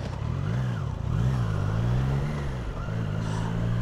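Triumph Tiger 660 Sport motorcycle engine drones steadily while riding, pitch rising and falling with throttle changes and gear shifts, loud and continuous amid wind noise.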